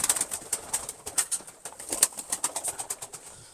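Pigeons shuffling and flapping nearby in a coop, with a busy stream of soft taps, wing flutters and faint cooing, no talking.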